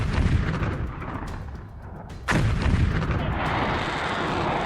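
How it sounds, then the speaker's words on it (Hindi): Loud explosions from rockets being intercepted along the Lebanon-Israel border: a sustained rumbling barrage, then a sharp, heavy blast about halfway through, followed by continued booming roar. "यहाँ पे जोरदार धमाके हो रहे हैं, इंटरसेप्ट किए जा रहे हैं रॉकेट्स हिजबुल्लाह की तरफ से।"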